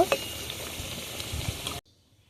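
Semolina (suji) pitha frying in hot oil, giving a steady close crackling sizzle with a few sharper pops, cut off abruptly into near silence for the final half second.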